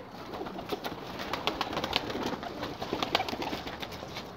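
Mixed-breed pigeons cooing steadily at close range, soft repeated coos over a grainy background of rustling and chatter-like noise, no voices.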